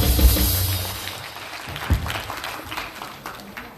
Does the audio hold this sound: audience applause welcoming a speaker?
yes